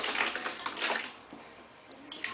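Water sloshes and splashes steadily as a child is bathed, close and fairly loud, with a few sharper splashes scattered through.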